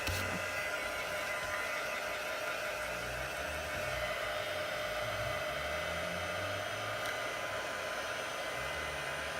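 A hair dryer blows on a freshly stamped card page, a constant close whirring rush with a low hum underneath, steady for the whole stretch with no voices.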